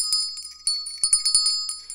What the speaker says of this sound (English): so I'm going to ring the bell here